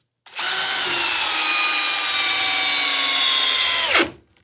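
A Milwaukee Gen 2 Surge impact driver runs in one sustained high whine for about four seconds, then spins down and stops, loud and close.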